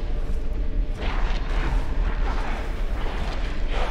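A pipe bomb explodes in the horror game Resident Evil Village, giving a heavy, rumbling blast with a burst of booming debris and low crackle that rolls on for several seconds.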